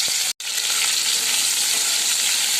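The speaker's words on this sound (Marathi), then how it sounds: "चला आता बाबा फ्राय करून घेऊया" Pieces of suran (elephant foot yam) fry in hot oil with a steady, loud, close-up sizzle. The sizzle keeps going with no talk, except for a very short break near the start.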